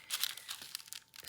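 Paper rips in a few short, crisp bursts, close up and fairly quiet.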